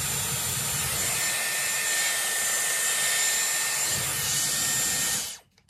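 A Dyson Airwrap hair styler with a round brush attachment blows a steady, loud broadband whoosh of air while drying hair, running continuously for about five seconds before cutting off abruptly at the end.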